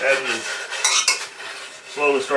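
Metal spoon scraping and clinking against a pan while sausage gravy is stirred and milk is poured in, a close, busy scratching with a few brighter clanks and a voice-like tonal sound at the start and end.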